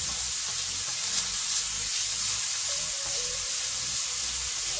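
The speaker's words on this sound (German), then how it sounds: "Unser Bacon haben wir jetzt schön knusprig angebraten." Bacon strips frying until crisp in a hot pan, a dense, steady sizzle and crackle that runs through the whole stretch with no voices.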